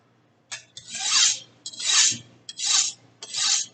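A cooking knife is drawn across a coarse whetstone in four even rasping strokes, each a loud, close scrape with a short gap between.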